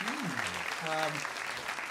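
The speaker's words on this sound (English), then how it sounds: "Oh, that was a nice round of applause, wasn't it?" An audience at a livestreamed show claps in a dense, steady wash of applause, with a voice speaking over the clapping throughout.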